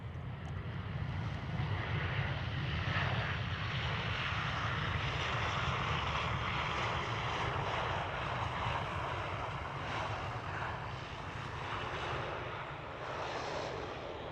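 An Aer Lingus airliner at Amsterdam Schiphol Airport makes a sustained jet roar with a broad rumble, steady and fairly near across the whole stretch, with no voices.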